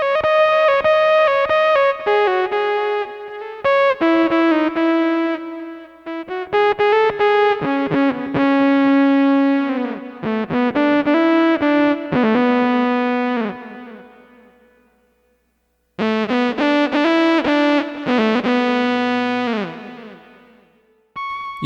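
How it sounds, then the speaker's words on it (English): A Roland GR-55 guitar synthesizer set to emulate the GR-300 plays a bright, buzzy synth-guitar line. Sustained notes with a distorted, chorus-like tone shift in pitch and brightness after a jump up one octave, with a short gap before the final phrase. "You can hear in this example how after I shift up one octave, the same notes sound different because of the changes in the filter settings"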